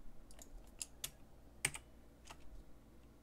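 Short bursts of key presses on a computer keyboard, a few quick clicks spaced irregularly with one sharper tap in the middle, close and fairly quiet with no talking.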